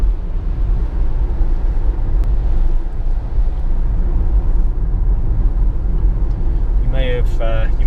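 A Renault Safrane car driving through a wet corner, with a steady engine and road rumble under continuous nearby talk from inside the cabin.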